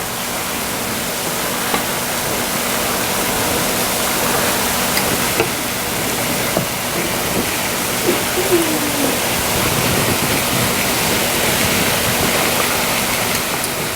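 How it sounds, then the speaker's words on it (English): Chopped onions and mushrooms sauté in a pan, giving a steady, dense broadband sizzle that holds evenly for the whole stretch with a few faint clicks from stirring and no talking. "While my onions are sauteing now"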